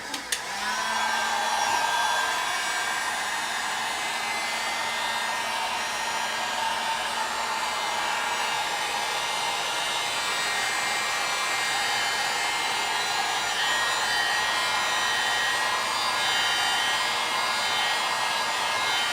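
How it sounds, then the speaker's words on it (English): Heat gun blowing over an acrylic paint pour, a loud, continuous close-up whoosh of motor and airflow running unbroken for the full length with no talking. "So I'm going to hit it with the heat gun real quick."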